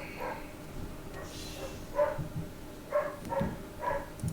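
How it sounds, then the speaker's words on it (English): A pet dog barks several times somewhere in the house, a few short muffled yips spaced about a second apart, fairly distant and soft under a steady background hum. "Sorry if you hear my dog barking."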